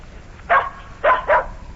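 A dog named Bunny barks three times in short, sharp, close yaps: one bark, a pause, then two quick ones, with no other sound around them.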